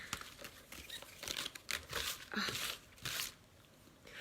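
Papery rustling and crinkling in quick irregular bursts as bingo cards are tossed and shuffled by hand close by.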